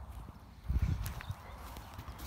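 Trail of horses walking through mud and grass, soft irregular hoof thuds with a brief cluster of heavier steps, faint and muffled against outdoor background noise.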